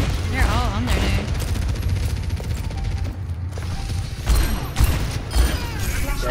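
Gunfire in a first-person shooter video game: rapid bursts of shots and mechanical clatter run throughout, loud and busy, with players talking over it.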